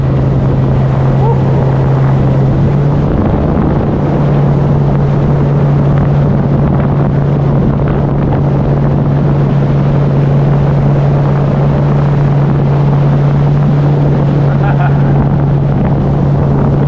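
A small aluminium tinny motorboat runs steadily at sea on a fishing trip to the reef, with a loud, constant engine drone and heavy wind buffeting the microphone throughout.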